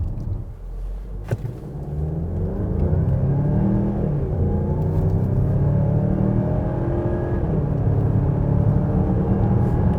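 A 2021 Mazda CX-9 LE SUV accelerates hard from a standstill, its engine note rising steadily into a loud, sustained roar with road rumble, heard from inside the cabin with no talking.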